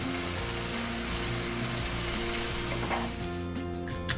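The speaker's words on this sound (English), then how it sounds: "try to cook it on medium to high flame and leave it open like this and keep stirring it" Chicken for a Philly cheesesteak fries on a medium-high flame while being stirred, a loud, continuous, close-up sizzle with faint stirring scrapes and no talk.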